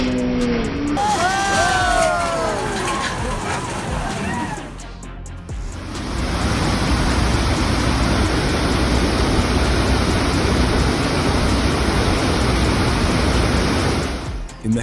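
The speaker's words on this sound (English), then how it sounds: "The fierce flood in Dili ripped apart a building making everyone terrified of nature's unstoppable power." Fierce floodwater in Dili tearing apart a building, a loud continuous roaring rush of water filling the scene, preceded by a few seconds of shouting voices and a brief dip before the torrent's steady broadband roar.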